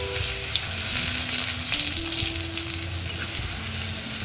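Curry leaves with crushed ginger and garlic sizzling in hot oil in a pan, a continuous close frying hiss with occasional stirring scrapes and small pops, no voices.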